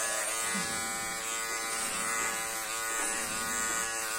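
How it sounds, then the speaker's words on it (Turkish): An electric hair clipper buzzes steadily and loudly while cutting a child's hair above the ears at home, a continuous close hum with slight wavering as the blades move. "Tıraş makinesini çok mu seviyorsun?"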